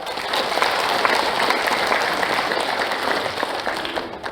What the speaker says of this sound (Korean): 여기 계신 유족 여러분들을 큰 박수로 맞이하겠습니다